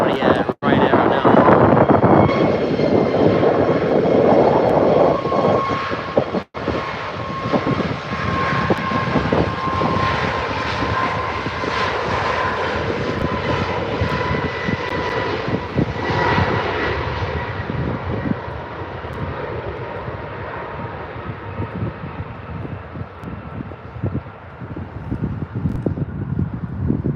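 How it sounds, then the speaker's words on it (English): A Ryanair airliner departing Birmingham Airport, its jet engines roaring loud and steady for nearly half a minute with a broad rumble and faint wind buffeting, slowly easing as it climbs away. "Heading out now, we've got another. It's from the Ryanair right now."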